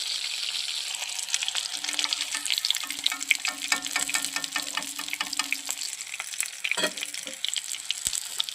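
Chicken tikka frying in a pan, a steady close-up sizzle and crackle with light stirring clatter throughout and no voices.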